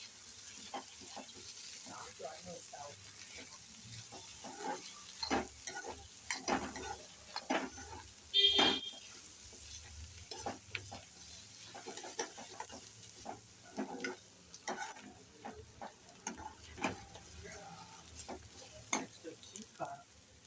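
Ginger garlic paste is stirred in a frying pan, giving a quiet, steady sizzle beneath repeated soft scrapes and taps of the spoon against the pan, with a brief louder clatter partway through.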